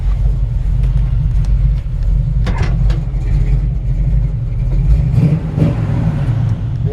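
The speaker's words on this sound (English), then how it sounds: "The engine sounds amazing." A 1966 Chevrolet C10 pickup with a 383 stroker V8 idles loudly up close, a deep, steady rumble with a couple of slight throttle swells and a brief rise near the end.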